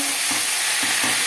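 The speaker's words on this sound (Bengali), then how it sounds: "মাছ ভেজে নেওয়া কড়াইতে আবারও তেল দিয়েছি, ফোড়নে দিয়ে দিলাম গোটা জিরে।" Whole cumin seeds fry in hot oil in a wok that has just been used for frying fish. A dense, loud, continuous sizzle carries a few soft stirring pulses, close up and with no voices.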